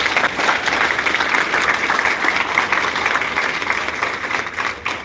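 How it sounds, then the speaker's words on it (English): An audience applauds a sponsor at a community address, steady dense clapping filling the whole stretch at moderate loudness with no voices on top. "Please give him a round of applause."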